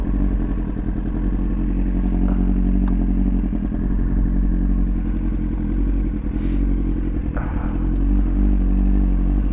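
A Kawasaki ZX-9R motorcycle rides slowly across a wet, rainy beach, its engine a steady low rumble close by, with occasional scrapes and clatter over the loose surface.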